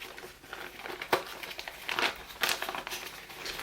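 Plastic bag crinkling as a pre-1945 German paper Christmas decoration is unwrapped, soft irregular rustles and sharper crackling bursts close by, with no talking.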